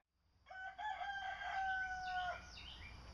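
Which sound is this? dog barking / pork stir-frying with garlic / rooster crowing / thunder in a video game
rooster crowing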